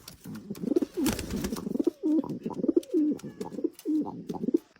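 Pigeons coo in repeated low, throaty rolling calls, close by and fairly loud, with a brief rustle in between and no talking.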